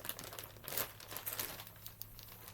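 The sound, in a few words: bag being handled and closed, crinkling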